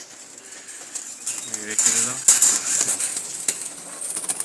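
Jalali pigeons coo and flutter their wings close by, with scattered rustles and clatter while a person speaks briefly.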